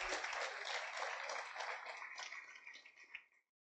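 Church congregation applauding at the close of a sermon, a broad crackling clatter of many hands that tapers and fades out after about three and a half seconds.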